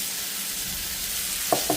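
Oiled batter for chila thalipith spreads on a hot griddle with a soft, even sizzle, followed near the end by two quick tapping scrapes of a utensil, close and without speech.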